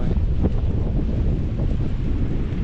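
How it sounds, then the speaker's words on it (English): Strong wind gusts buffet the microphone at a fishing pier by the water, a steady loud rumble with no letup, while faint waves wash underneath. "Pretty windy."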